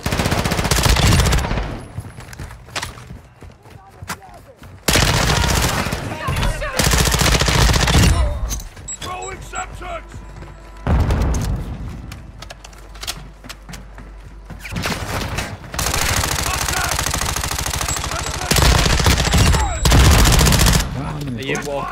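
Rapid bursts of automatic gunfire in the Call of Duty DMZ video game, loud and close, in several long stretches separated by brief quieter gaps with softer game sounds and occasional voices.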